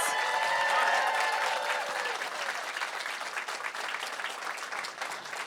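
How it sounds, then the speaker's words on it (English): A live podcast event audience applauds its panelists, a dense burst of clapping that starts loud and gradually thins and fades over several seconds, with no talking. "Can we give them a round of applause?"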